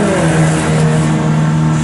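MG club racing cars roar past during a championship race, a loud steady engine drone with a sustained revving tone, close and continuous across the short stretch without talk.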